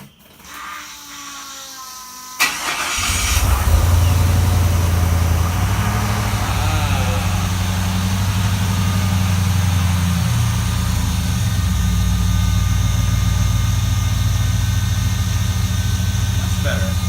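A car engine, previously run out of fuel, turns over and catches after a short crank, then settles into a steady, close idle that hums evenly for the rest of the stretch.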